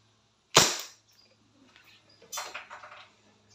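A WE M-92 airsoft pistol fires a single 0.20 gram BB in one sharp, close crack, followed by faint rattling handling noises and a brief ringing.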